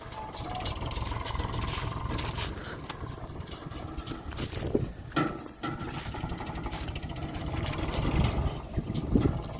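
A tractor engine runs close by in a continuous rough drone, broken by occasional mechanical clanks and rattles.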